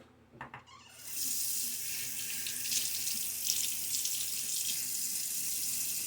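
A tap runs water over a safety razor head (a Timeless 68 OC) to rinse it, with a few clinks of handling first, then a steady, close hiss of flowing water filling the rest.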